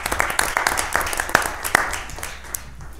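Council members at a city council session applaud a departing colleague, a short, moderate round of clapping with distinct sharp claps that thins and fades out, with voices beneath it.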